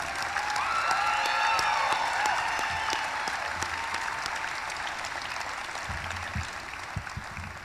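Sustained applause from a graduation ceremony audience at South Whidbey, 2024, dense clapping filling the hall steadily for several seconds before thinning slightly toward the end, with faint whistle-like tones and scattered voices.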